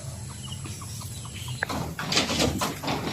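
Chickens in a backyard yard with a simple DIY coop give short, repeated clucks at a moderate distance, followed by a louder burst of mixed fowl calls and rustling toward the end.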